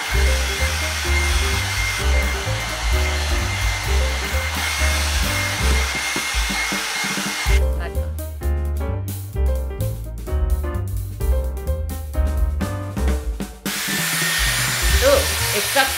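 A Dyson hair dryer styler blows air in a continuous broadband whoosh that holds steady throughout, with rhythmic background music playing over it.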